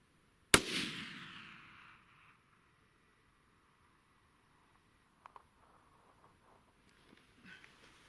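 A single loud rifle shot fired at long range through a cheap scope, a sharp crack trailing into a long fading echo, followed by quiet faint clicks and rustles.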